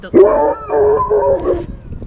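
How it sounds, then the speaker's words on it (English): A Great Pyrenees gives a few drawn-out, howly barks in quick succession, fairly close and loud, with some voice-like tone mixed in. "You guys hear that bark? That's a good bark."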